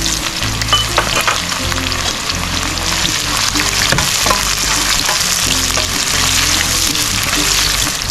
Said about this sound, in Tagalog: start na tayo maggisa